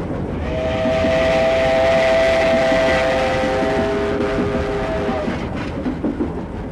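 Steam locomotive No. 803 passes Yabuhara station in Japan, its long, loud whistle blowing over the steady rumble and clatter of the train rolling by.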